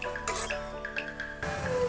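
Brief metallic scraping of a spoon stirring a mixture in a frying pan for fried rice, close and moderate, with a faint tonal hum underneath.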